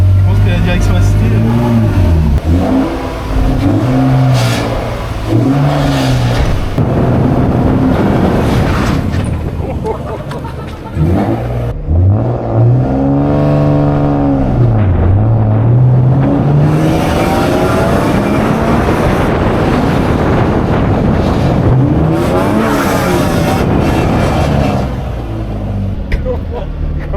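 A car engine revs and accelerates hard, its pitch sweeping up and down repeatedly in loud, close bursts and sustained runs.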